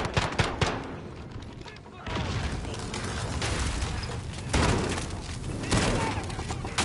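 Gunfire crackles in Call of Duty: Warzone: bursts of rapid automatic shots, with loud clusters at the start and later, and sustained firing and battle noise between them while a voice speaks briefly.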